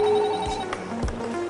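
Telephone ringing at a reception desk, a short electronic ring heard up close over faint room noise.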